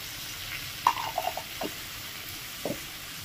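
Prawn rice ingredients are stirred and lightly fried in a pan, giving a few soft scraping and tapping strokes over a faint steady sizzle, close by with no talking.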